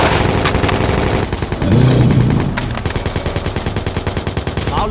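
Rapid machine-gun fire from a capital's defence system in an animated series, loud and sustained, with dense rattling bursts running the whole clip and a brief heavier blast midway.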